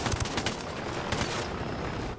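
Gunfire in the video game Ghost Recon Wildlands: rapid, loud bursts of shots crackle in quick succession, then cut off into a quieter tail.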